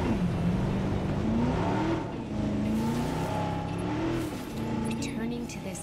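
Jurassic World Evolution: a park vehicle steered by hand hums with a rising and falling engine drone, heard beneath someone talking throughout.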